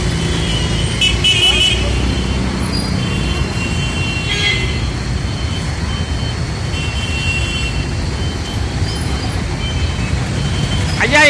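Morning traffic grinds through the Sungam junction roundabout in Coimbatore: a constant rumble of engines, sharp horn toots scattered throughout and voices mixed into the street noise.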